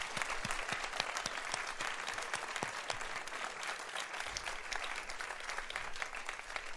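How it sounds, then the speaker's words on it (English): Audience at a local election forum applauding the candidates, a steady patter of many hands with individual claps standing out, fairly quiet and distant throughout. "Let's give them a round of applause"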